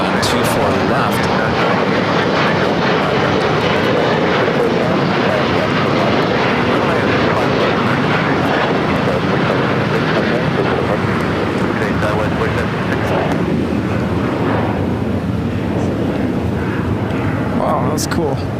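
Airliner departing LAX on a Green Air flight to Seoul, the jet engines roaring loud and broad as it takes off, then slowly fading as it climbs away, with people talking over the noise.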